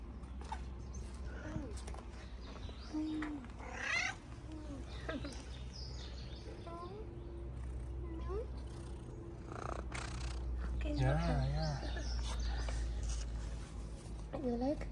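A mother cat with her kittens, with soft close purring and several short high meows scattered throughout, while a person talks quietly nearby.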